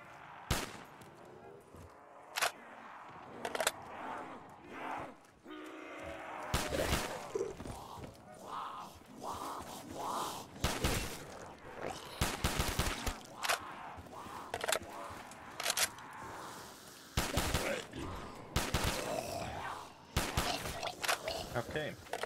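AK rifle fire in Black Ops 3 custom zombies, sharp single shots and short bursts spaced irregularly, loud and close, with a player talking quietly between them.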